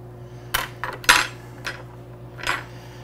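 A metal teaspoon scoops loose-leaf Young Hyson green tea from a container, giving a few short, close clinks and scrapes of metal against metal or ceramic spread over a few seconds, with a steady low hum underneath.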